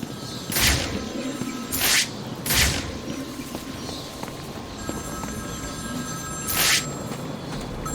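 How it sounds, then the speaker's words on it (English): A telephone rings in the video game Batman: Arkham City, giving several short bright bursts with a gap before the last one, over a low murky ambient background. "Answer my phone and answer it quick, Batman."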